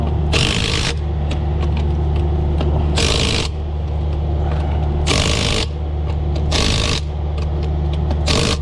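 Rapid ratcheting bursts from a wrench tightening bolts on the axle seal of a Peterbilt truck, four or five short clicking runs spaced a second or two apart, up close over a steady low machine hum.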